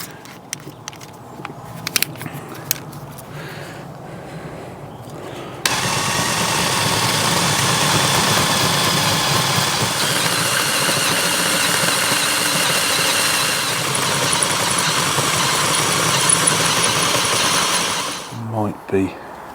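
A loud, steady power drill whirs continuously for over ten seconds, boring a hole through metal before tapping, on a Land Rover Freelander 2 rear differential job, with a few clicks and handling knocks before and after.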